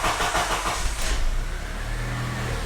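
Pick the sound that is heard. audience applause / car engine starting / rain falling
car engine starting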